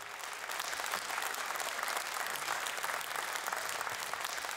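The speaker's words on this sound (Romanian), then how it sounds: "haideți să-i aplaudăm, doamnelor și domnilor!" An audience applauds steadily and loudly for singers and a folk orchestra at a Romanian-language concert, a dense, even clapping wash with no pause throughout.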